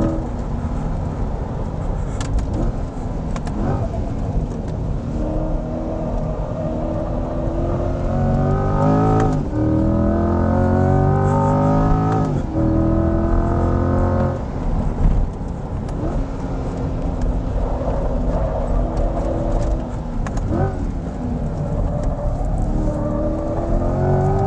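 A 2020 C8 Corvette Z51 at full tilt around a track lap, its engine roaring loud and steady from inside the car, rising and falling in pitch through upshifts and braking, with constant wind and road rumble underneath.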